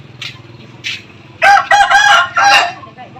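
A rooster crows loudly and close by, following a couple of softer short calls, its drawn-out cock-a-doodle-doo ringing out clearly above faint background noise.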